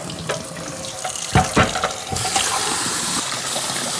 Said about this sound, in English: now we're just going to fill this with water.